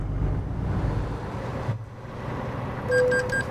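A car passes on the road beside a vehicle towing a trailer between Flagstaff, Arizona and Artesia, New Mexico. Its low rumble fades out, and a short series of electronic beeps follows near the end.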